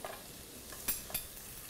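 Garlic sizzles in olive oil in a hot pan, a soft continuous frying hiss broken by two brief stirring scrapes close by, with no talk.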